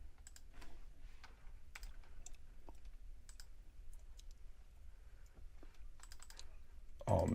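Someone types on a computer keyboard while searching eBay inventory, light scattered key clicks at a quiet, moderate distance, with a sharper tap or two near the end.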